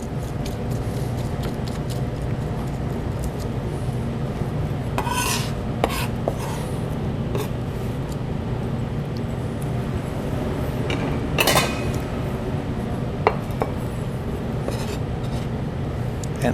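A kitchen knife scrapes and mashes garlic into a paste on a cutting board, making continuous gritty rasping strokes broken by occasional sharper scrapes and clinks, close and steady.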